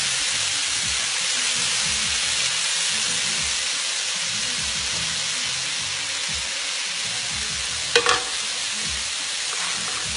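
Zucchini noodles sauté in a pan with a continuous close hiss and sizzle, joined by a brief clatter near the end; no one talks.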